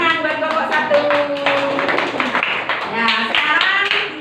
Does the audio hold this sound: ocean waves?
no